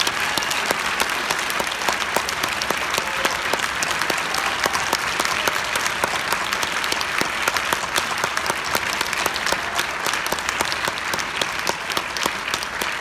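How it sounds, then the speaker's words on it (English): Sustained, dense audience applause fills a concert hall after a senior honors band performance, a loud, even roar of many clapping hands that holds steady for over twelve seconds with no talking. "let's have one more applause for the Senior Honors Band and Dr. Stephen Gage"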